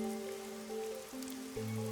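Steady rain patter in the anime-noir detective game Master Detective Archives: Rain Code Plus, a soft continuous hiss running beneath sustained musical tones that shift pitch a few times.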